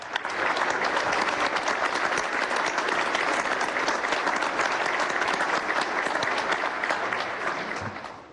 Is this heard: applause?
yes